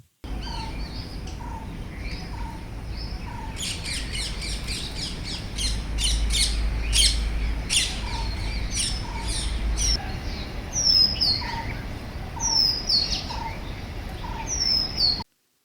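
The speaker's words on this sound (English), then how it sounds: "The melodious call of birds add to the beauty of the forest" Birds calling in a forest: repeated squawks and sharp chirps from several birds, some near and loud, others fainter, with bursts of high, clustered calls over a steady low background rumble and no talking.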